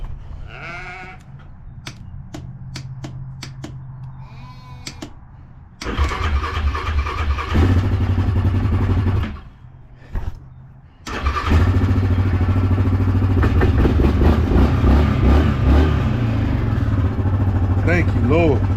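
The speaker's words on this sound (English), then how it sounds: "Let's hope the four-wheeler starts." A four-wheeler ATV cranks with short bursts of starter whir and rough catching, stalls, then fires up and settles into a loud, steady nearby idle, with a person speaking around it.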